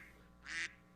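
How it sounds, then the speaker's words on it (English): One short, bright quack from a duck horn, a single nasal honk lasting about a quarter second, sounding over quiet background. "the duck horn, the quacking duck noise, was the top best sound"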